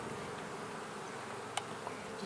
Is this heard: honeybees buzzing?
yes